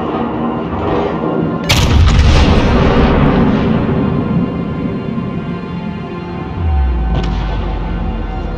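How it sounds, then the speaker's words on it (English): The Yamato battleship's heavy guns fire in World of Warships, one booming salvo rolling into a long roar, followed later by a second deep thunderous blast, loud and close. "Concentrate fire on the enemy warship."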